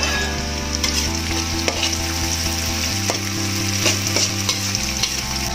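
Garlic sautés in a pan until soft and fragrant, a steady sizzle under repeated clinking spatula stirs, with a low constant hum beneath.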